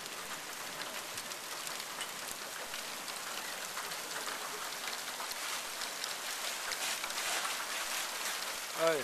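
Steady rain falls and patters on surfaces all around, a dense even hiss that swells slightly toward the end.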